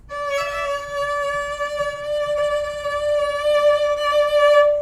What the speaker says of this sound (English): if you're playing or practicing a vibrato and it sounds like this